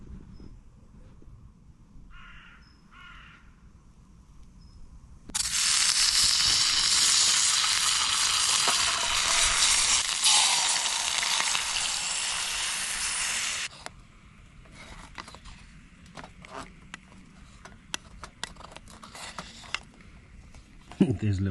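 Eggs cooking in a pan on a camp stove outdoors, a loud bright sizzle that starts abruptly and holds for about eight seconds before cutting back to quieter crackling, with a voice talking nearby and crows cawing in the background.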